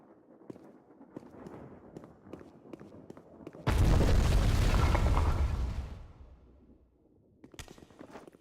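In the video game Legacy of Kain: Defiance, a loud booming explosion erupts after quiet scattered clicks and rumbles for about two seconds before fading away, and a sharp burst follows near the end.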